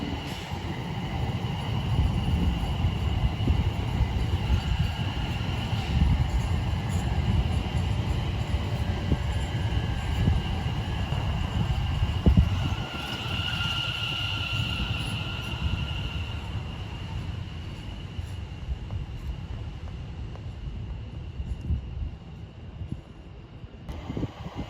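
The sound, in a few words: Great Northern train to Ely at Cambridge station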